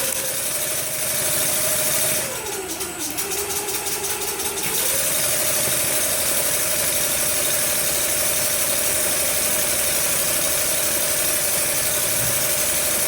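A benchtop hybrid engine runs steadily at a 700 RPM high-speed setting, a close, even mechanical hum with a sustained tone that dips briefly then settles, plus a short rattling burst early on.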